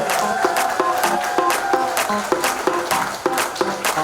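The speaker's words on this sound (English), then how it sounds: "Loud round of applause, Shalane." Audience applause fills an award night hall, a dense, steady round of clapping from a crowd with some music-like tones running underneath, holding strong for the whole stretch.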